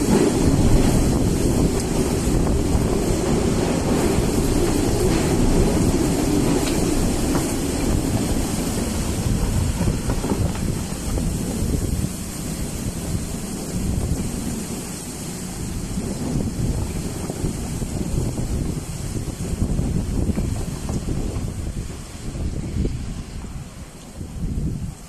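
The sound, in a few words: strong wind blowing during rainstorm in Kuwait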